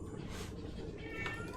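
A house cat meows once or twice, soft and fairly near, over a muffled indoor background with a faint trace of voice.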